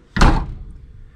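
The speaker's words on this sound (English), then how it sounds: "So when you shut the door," Door of a Unimog U1300L expedition truck swung shut once, a single close, loud slam with a heavy low thud that fades quickly into quiet.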